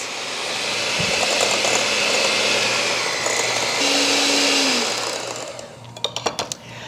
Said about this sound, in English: we are going to use our hand mixer and cream these together until they're nice and creamy